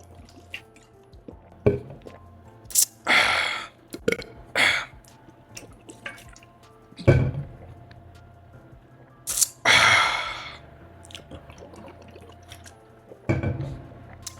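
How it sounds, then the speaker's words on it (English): Repeated drinking sips of water, each a short gulping, slurping burst with soft swallows, several close-up sips spaced across the stretch with quiet pauses and faint clicks between them. "Let's take a sip of water."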